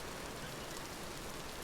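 Steady rain falls in the video game Vintage Story, a soft continuous hiss of drops on surfaces, even and unbroken with no voices.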